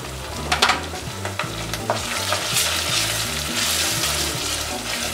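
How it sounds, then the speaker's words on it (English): Ginger and cumin fry in oil with onion, a continuous close sizzle under repeated stirring scrapes, with a low rhythmic thumping running beneath throughout. "I have to fry also ginger with oil."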